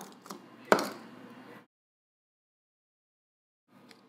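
A knife chops through the base of a piece of produce in the kitchen, leveling it so it sits flat, giving one sharp cutting thud followed by brief scraping, then near silence and a faint later rustle.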